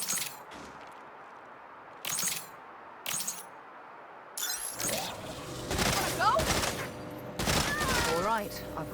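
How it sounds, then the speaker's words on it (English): Quantum aperture gun in Saints Row firing at live targets: a few separated sharp shots early on, then busier crackling, shattering and metallic ringing effects in dense clusters, fairly close. "They'll deploy the aperture and shoot them."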